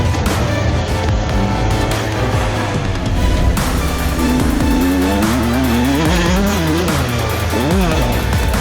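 Motocross dirt bike riding through a corner toward a jump, the engine revving loudly and continuously with rising and falling pitch, close to the listener throughout.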